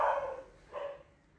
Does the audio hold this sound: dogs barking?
yes